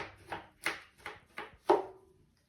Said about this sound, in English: So we're going to be chopping our corn flour as well.